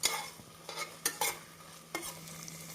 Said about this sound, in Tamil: நாம் இஞ்சி பூண்டு விழுது சேர்த்து நன்றாக பச்சை வாடை போகும் வரை வதக்க வேண்டும்